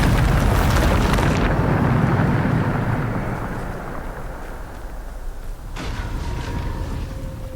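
Bombarda spell blasts in the game Hogwarts Legacy: a loud, rumbling explosion with a heavy decaying roar, then a second sharp blast near the end, with no talking.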